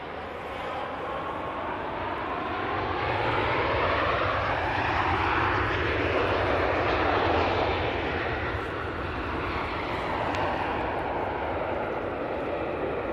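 Ethiopian cargo jet landing at Manchester Airport, a steady broad engine roar that swells toward the middle, with sweeping tonal shifts as it passes, then holds loud to the end; no talking.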